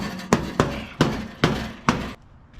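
Five sharp hammer blows strike metal on a truck at a steady pace, each a loud, close metallic bang with a brief ring, then quiet.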